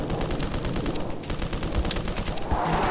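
Sustained rapid gunfire from the video game Black Mesa, a dense unbroken burst of loud shots lasting several seconds with no pauses and no talking.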